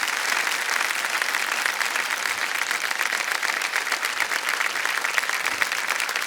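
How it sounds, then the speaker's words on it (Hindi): Studio audience applauding on the Indian TV quiz show Kaun Banega Crorepati, a dense, steady burst of many hands clapping, loud and close, with no voices over it. "तालियां बज जाए इनके लिए"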